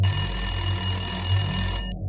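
A mobile phone rings with an incoming call, a steady electronic ringtone of sustained bright tones held close and loud, cutting off abruptly near the end with no voices.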